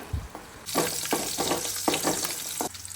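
Green chillies hit hot oil in a pan for uppit, bursting into a loud, close sizzle that pulses in repeated bursts as they are stirred, then fades near the end.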